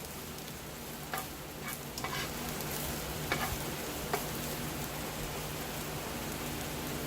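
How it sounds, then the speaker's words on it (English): Steady frying hiss of chicken and broccoli in hot oil, soft and continuous, with a few faint clicks and scrapes of a utensil stirring in the pan. "coat it in this oil, and you hear it start to sizzle"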